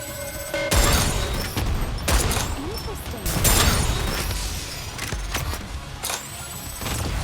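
Rapid gunfire and explosive blasts from the shooter game Goddess of Victory: Nikke fill the scene in dense repeated bursts, layered with game effects and voiced character lines.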